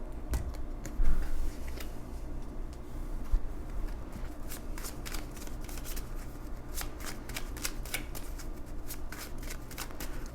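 A deck of tarot cards is shuffled by hand in close, dense bursts of riffling and flicking clicks that continue steadily without speech.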